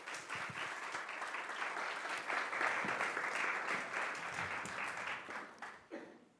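Warm, sustained applause from a library lunchtime audience greeting speakers at a conversation event, swelling steadily and then tapering off at the end.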